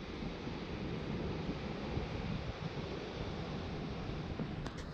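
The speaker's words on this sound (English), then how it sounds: "Nice little beach here." Broad, steady rush of surf washing onto a small beach along Highway 1 on the California coast, continuous and fairly loud, with wind buffeting the microphone throughout and no voices.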